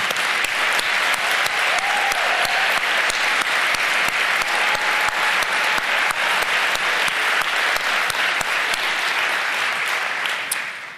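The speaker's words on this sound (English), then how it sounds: "we can all give them an applause and congratulate them on that journey" A city meeting audience in Richland, Washington applauds program participants with loud, continuous clapping from a full room, individual claps sharp within the dense wash, tapering slightly at the very end.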